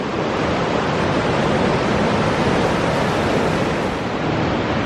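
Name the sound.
ocean waves washing in with the tide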